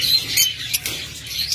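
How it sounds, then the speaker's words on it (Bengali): A pair of lovebirds kept for sale as a breeding pair gives quick, bright chirps and tweets, close by, in short irregular bursts with no talking. "এখানে আরেকটা চমৎকার জোড়া লাভবার্ড রয়েছে"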